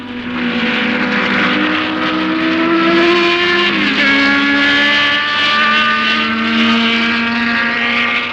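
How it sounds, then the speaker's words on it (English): Grand Prix racing cars, among them a Ferrari, roar past at full throttle, one loud engine note rising and dropping as it changes gear, with other engines droning alongside, close and continuous with no talk. "Lorenzo Bandini of Italy is destined to finish 5th in his Ferrari, but there's still a long way to go"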